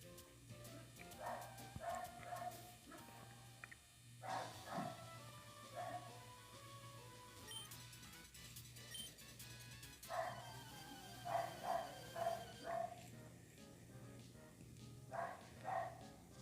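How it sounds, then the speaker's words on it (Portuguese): A dog barks repeatedly in the distance, faint yips and bow-wows arriving in short clusters under a person's speech and low background noise. "cachorro lá no fim do mundo. Tá alto ainda."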